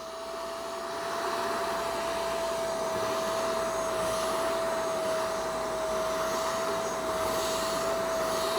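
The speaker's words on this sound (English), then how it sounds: "Now it's not sucking up all those hairs, but the ones that do get sucked up, there's a special place they go." A Shark StainStriker HairPro PX253 carpet cleaner runs with a steady, loud suction whine as it picks up pet hair. The motor holds a constant pitch throughout with no speech.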